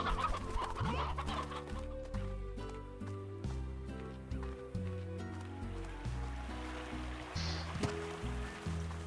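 Hens in the Slime Rancher video game cluck repeatedly over a looping melodic game soundtrack, with the clucks sitting fairly prominent against the music.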